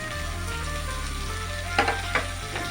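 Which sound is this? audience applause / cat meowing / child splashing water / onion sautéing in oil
onion sautéing in oil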